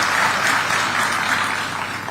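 An audience at an African Union Commission bid launch in Addis Ababa applauds steadily, a dense, even wash of many hands clapping throughout without pause.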